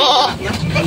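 Goats on a goat farm bleat in a brief, loud, wavering call, with a voice speaking close by.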